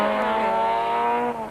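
Rally cars racing flat out in a 1992 stage event, including a Toyota four-wheel-drive car and a VW Golf, produce a steady, loud engine drone with strong harmonics that holds its pitch, then dips slightly toward the end.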